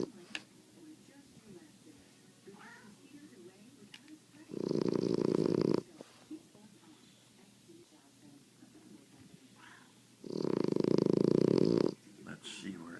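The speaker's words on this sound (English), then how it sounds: "And now I give you the snoring blanket." A snoring blanket produces two loud, drawn-out snores, each lasting over a second, separated by quiet breathing and soft background sounds.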